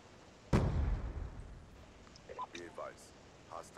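A single heavy gunshot booms from a Black Ops 2 match, followed by a decaying rumble, faint distant pops and quiet speech underneath.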